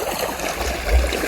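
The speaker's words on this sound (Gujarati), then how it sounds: "આ બાજુ પાણી ચાલુ જ છે, જો" Irrigation water runs steadily through a castor field, a continuous gurgling rush heard close and fairly loud, with no other sounds standing out.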